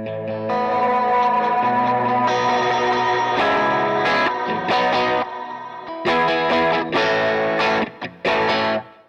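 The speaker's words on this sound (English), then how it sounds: "The delay and reverb trails spill over as the next preset is engaged" Heavily processed electric guitar chords switched between presets on an ML10X ring out, with delay and reverb spillover tails carrying over smoothly between changes instead of stopping dead.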